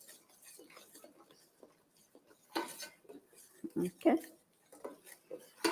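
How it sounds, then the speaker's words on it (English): Crab and shrimp stew stirred in a pot, with utensil clinks and scrapes against the metal in uneven bursts, close and moderate in loudness, while a voice speaks briefly. "so we give this a good stir"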